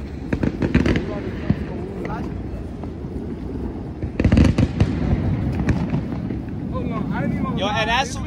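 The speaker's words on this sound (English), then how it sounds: "Wait for the fireworks" Fourth of July fireworks outdoors, with bursts of crackling booms near the start and again midway over constant wind buffeting. People talk throughout.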